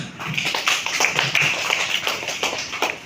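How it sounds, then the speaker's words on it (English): A small group claps for a few seconds in a school classroom, scattered hand claps close by, moderately loud with no one speaking. "So first give him big round of applause"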